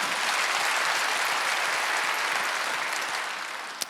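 A church congregation applauds during a Wednesday worship service, many hands clapping together at steady volume before the sound thins and tapers off, ending with a few sharp stray claps.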